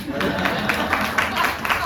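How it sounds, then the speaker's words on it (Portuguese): Audience applause in a lecture-hall talk session honoring a late priest, a steady wash of clapping filling the whole stretch at moderate level with broad, even texture. "Palmas para o Padre Afonso."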